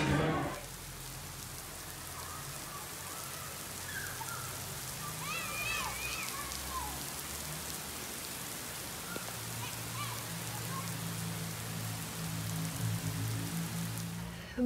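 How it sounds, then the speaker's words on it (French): Heavy rain shower pours down steadily at Playa del Carmen, a dense hiss of drops on surfaces with low rumbling underneath and faint voices mixed in. "On s'est pris une averse là aujourd'hui, un truc de fou."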